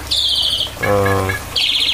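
Small birds chirp beside a shallow stream and waterfall in an aviary: close, bright bursts of chirping with a lower, harmonic call between them.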